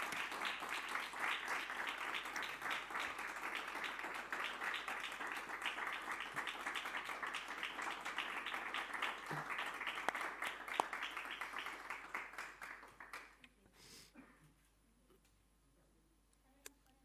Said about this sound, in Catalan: Un aplaudiment, si us sembla